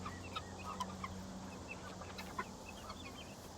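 Guinea fowl calling in a flock, with scattered short clucks and chattering calls at moderate distance over a low background hum, no talk.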